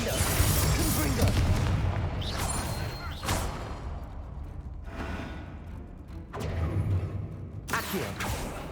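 A Confringo fire spell explodes in Hogwarts Legacy combat, a dense roaring burst with repeated booming surges and whooshing bursts layered over continuous battle noise, loud and close throughout.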